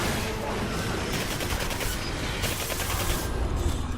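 Sustained gunfire in the Xbox 360 game Singularity, a dense steady stream of shots and combat noise at constant loudness with no pauses across the stretch.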